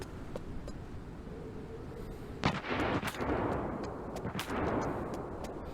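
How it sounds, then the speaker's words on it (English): Distant gunshot from a sniper in the video game Lost Light, a sharp crack with a long rolling echo, followed by a second fainter shot trailing off over steady outdoor ambience. "there's another shot that went off"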